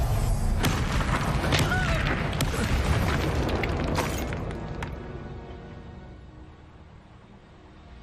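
Incendio fire spell in Hogwarts Legacy, a loud booming explosion of flame with crackling bursts that roars for several seconds and then fades into a low rumbling tail.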